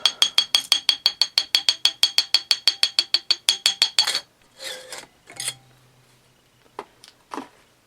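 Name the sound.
removing cylinder from 1974 Honda XL70 engine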